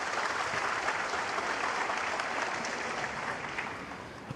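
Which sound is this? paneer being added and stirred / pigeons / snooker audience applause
snooker audience applause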